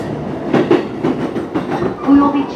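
A JR Keiyo Line local train runs on its tracks, heard from inside the carriage as a steady rumble with rhythmic wheel clatter and a brief tonal squeal near the end. A faint voice may be present.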